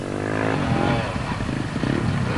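A motorcycle races on a closed circuit track, its engine note droning and shifting loudly and continuously with some clatter.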